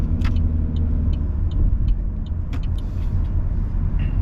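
A car drives through the streets of Newark, New Jersey, its steady low engine rumble and road noise continuous and close, with a few faint clicks and ticks above.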